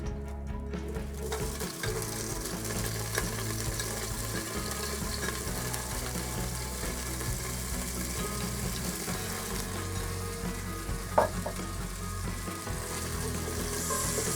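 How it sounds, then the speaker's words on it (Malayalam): Chopped celery frying in olive oil in a pan, a steady dense sizzle with occasional stirring clicks, close and continuous with no talk. "സെലറി ആദ്യം ആ ഓയിലൊന്ന് ഫ്രൈ ആകട്ടെ."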